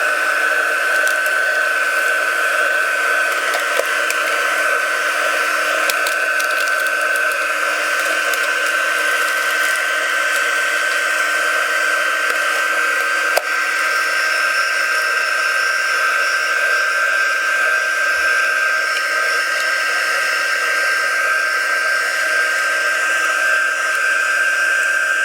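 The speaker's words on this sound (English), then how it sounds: "we're going to use our heat gun to shrink the wrap to the mug" A heat gun blows hot air to shrink a wrap onto a sublimation mug. It gives a steady, loud whooshing hum with a constant whine that runs without a break for about twenty-five seconds.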